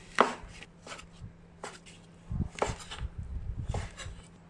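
A knife chops shiitake mushrooms on a cutting board, starting with a few scattered strikes and then a quicker run of cuts, close and fairly soft.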